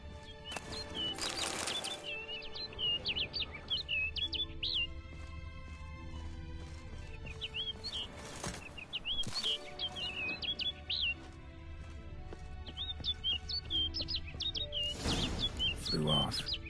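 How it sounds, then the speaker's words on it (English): Songbird chirps in The Witcher 3: Blood and Wine on PS5, repeated short high tweets scattered throughout over steady game ambience and music, with a few louder bursts of effects. "Looks like the bird's leading me somewhere."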